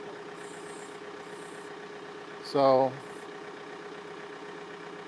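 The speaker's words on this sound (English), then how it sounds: "We have the engine idling at its lowest pace or lowest speed" A John Deere 4052R compact tractor idling at its lowest speed, a low, steady engine hum running throughout, with a brief spoken word and a short tonal burst partway through.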